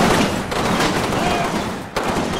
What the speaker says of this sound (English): they run into another wall of gunfire, and most of them are gunned down already